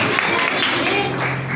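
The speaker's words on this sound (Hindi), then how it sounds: "जोरदार ताली" A church congregation at a Sunday sermon breaks into loud, dense applause, a steady burst of clapping lasting the whole brief moment.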